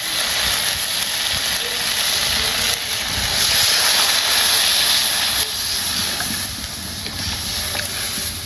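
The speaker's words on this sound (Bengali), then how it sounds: "আলু কাটানো জল দিয়ে দিলাম।" Water poured onto cut potatoes in a hot pan sets off a loud, sustained sizzling hiss that swells and eases over several seconds, close up with no speech.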